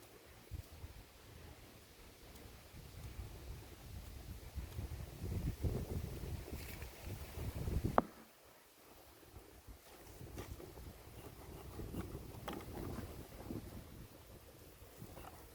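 Wind gusts across a microphone outdoors at a rainy beekeeping site, a rumbling, buffeting roar that swells and fades over about fifteen seconds, dropping off briefly in the middle.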